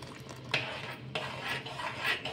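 A spoon stirs a milk mixture for ice cream in a pot, scraping and clinking against the metal in repeated strokes over a faint steady background.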